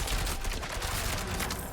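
Rapid fire and barrage attacks in Diablo IV roll out as a dense, steady volley of overlapping impacts that stays loud for the whole stretch.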